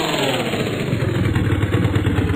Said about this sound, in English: It's a Vespa scooter right there.